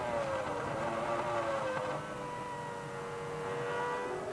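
Formula One cars from the 2000 season race past, a Ferrari pursuing a McLaren, with steady high-pitched engine whine shifting in pitch as they pass, loud and continuous with no talk.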